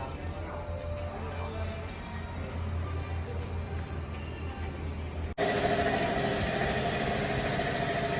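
A used Kubota combine harvester's engine runs steadily with a low, droning throb. Around the midpoint the sound jumps noticeably louder and brighter, then holds that fuller roar to the end.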